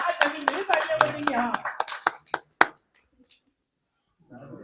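A few people at a Delhi mushaira clap for Hina, a short scattered round of close claps mixed with voices that quickly thins to isolated claps and then silence, before faint talk returns.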